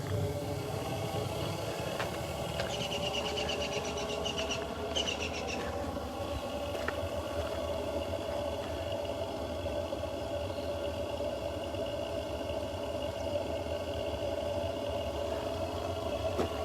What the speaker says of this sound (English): In case you're wondering what that noise is, it's this pumping system here